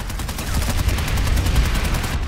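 Rapid, continuous gunfire from a multiplayer video game, with overlapping shots and bursts rolling steadily and loudly throughout, no voices over it.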